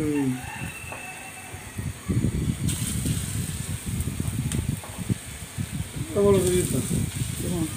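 Chickpea fritters (chola boot bora) frying in hot oil, a continuous loud close sizzle and bubbling, with a voice talking over it in stretches and a rooster crowing briefly near the end.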